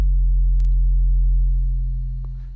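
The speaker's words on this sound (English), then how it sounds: "Pretty healthy sounding 808." A deep, sustained sub-bass tone holds steady throughout, booming low and loud with a couple of faint clicks above it.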